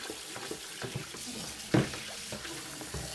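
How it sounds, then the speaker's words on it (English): Water running into winemaking equipment to rinse out cleaning solution, a soft continuous splashing and trickle with one brief louder slosh midway, close and fairly quiet, no voices. "I'm going to give this a little rinse and put some water in it."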